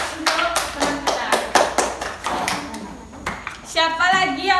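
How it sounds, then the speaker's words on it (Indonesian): A group claps hands for a classmate at a small gathering, with loud, dense clapping alongside talk and a voice, ending in shouted cheering as the clapping carries on. "Ya, kita tepuk tangan untuk teman kita."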